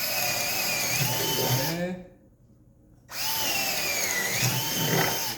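An electric drill bores a hole in a wall for a built-in electrical outlet, a loud whine that runs, stops for about a second, then starts again, with no one talking.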